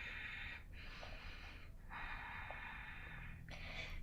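Deep, steady breaths during a yoga flow class focused on the legs and hamstrings, three long breath sounds in a row, each with a brief pause between them, heard close and alone with no talking.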